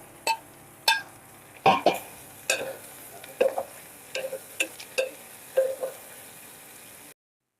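Chilies, tomatoes and green peas dropped into a pan of hot oil, a string of sharp clattering thuds and brief sizzling bursts, close and fairly loud, then abrupt silence.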